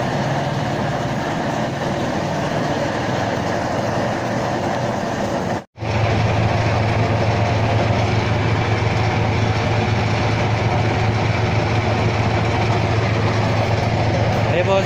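A homemade 8-inch used-oil burner stove roars steadily and loudly, a dense broadband rush with a low rumbling drone that cuts out for an instant and then resumes just as strong.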